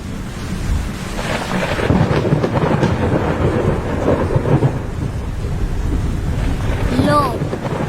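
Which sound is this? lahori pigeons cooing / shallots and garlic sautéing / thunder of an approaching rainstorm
thunder of an approaching rainstorm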